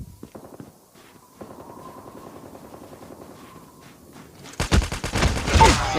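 Gunfire in the video game Call of Duty, starting as a thin rapid rattle and building into a loud, dense burst of shots near the end.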